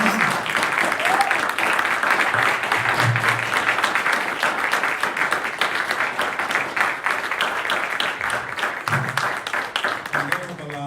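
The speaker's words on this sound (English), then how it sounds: "why don't y'all let me hear it then with a round of applause" Sustained round of applause from a large crowd at an evening keynote gathering, dense steady clapping lasting around ten seconds with occasional voices and cheers mixed in.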